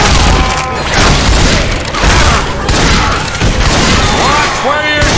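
Heavy booming impacts and crashing blows come from a Charger special infected attack in Left 4 Dead 2, mixed with dense gunfire-like game noise and shouting voices throughout.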